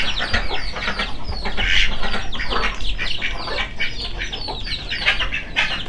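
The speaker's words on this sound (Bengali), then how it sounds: "3টা হাঁস খাচ্ছে। এখানে মূলত ধান দেওয়া হয়েছে তাদেরকে খাওয়ার জন্য।" Farm ducks and chickens feed on scattered paddy, with a steady stream of close, busy clucking and quacking calls, overlapping chatter and occasional wing flaps continuing throughout.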